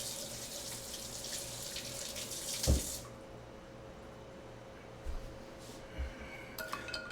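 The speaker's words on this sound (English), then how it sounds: "I like to run my ice cubes under hot water to get them to sort of warm up a little bit" Tap water runs loudly over a handful of ice cubes for a few seconds, then cuts off, leaving quiet room tone with a few soft clinks and knocks.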